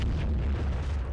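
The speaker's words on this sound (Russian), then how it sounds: "что будет такой обширный взрыв" Dynamite explosion blowing open doors in the video game Zompiercer, heard as a heavy, sustained low rumble filling the short stretch at a loud, even level.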